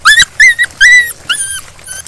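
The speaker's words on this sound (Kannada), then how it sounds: "ನಾಯಿ." A dog gives a string of short, close, high-pitched yelps and whines, four or five bursts with brief gaps, alone and without any talk, in a Kannada horror short film.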